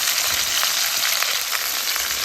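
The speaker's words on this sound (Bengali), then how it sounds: "মাছগুলো এক সাইড ভাজা হয়েছে" Fish frying in hot oil in a kadai (wok), a steady dense sizzle that holds close and loud throughout with small crackling pops, no voices.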